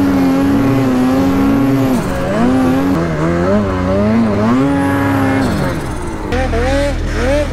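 A G5 Turbo off-road vehicle's engine revs steadily and loudly up close while riding, its pitch rising and falling through the throttle changes, with a deeper rumble joining near the end.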